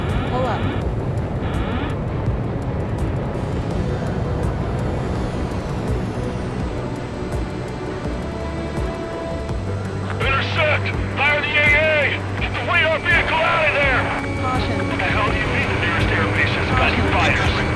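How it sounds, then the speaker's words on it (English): Enemy jet aircraft in Ace Combat 7 Skies Unknown, a loud continuous jet roar and hum that shifts in pitch midway, with radio voices talking over it in the later part. "We're being attacked by enemy aircraft!"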